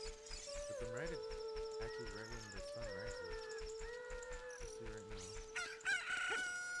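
A rooster crows and clucks as a chicken hatches at sunrise in The Legend of Zelda: Ocarina of Time on the N64, with the game's music playing steadily underneath.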